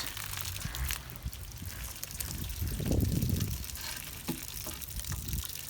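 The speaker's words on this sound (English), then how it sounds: "we want the water to run on this section we made so that the water constantly flows down that little hole there" Water from a hose trickles and runs steadily down a small hole drilled in aquarium glass, a continuous low wet gurgle that swells briefly in the middle.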